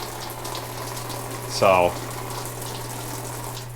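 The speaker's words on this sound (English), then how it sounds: "when I go to turn the water back off, this handle goes down further than it should, so you can see the water comes right back on" Water runs steadily from a leaky Delta shower faucet with a worn cartridge, a constant hiss beneath a low electrical hum, while a man briefly starts to speak.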